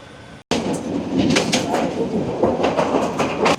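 A crowded local train on the Jamalpur to Dhaka route in Bangladesh rumbles steadily along the rails with rhythmic clattering, heard from inside the carriage after a short quieter moment.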